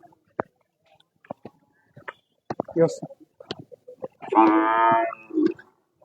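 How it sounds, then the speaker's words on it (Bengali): A single long, close moo from cattle at a weekly market held ahead of Qurbani follows several short bursts of someone talking, with quiet gaps in between. "এখানে কিন্তু দূর দূরান্ত থেকে অনেক অনেকে গরু নিয়ে আসেন এবং অনেকে কেনার জন্য আসেন"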